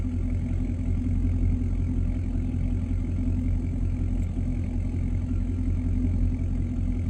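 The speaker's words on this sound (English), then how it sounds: "because I'm actually in my truck right now" Truck engine idling steadily from inside the cab, a continuous low rumble with a constant hum and no breaks over several seconds.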